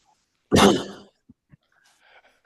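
A single sharp sneeze bursts out loudly and close, fading within half a second, followed by a few faint clicks and quiet background noise.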